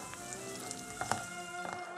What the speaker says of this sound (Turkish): 2-3 dakikada salçayla birlikte kavurmaya devam ediyoruz.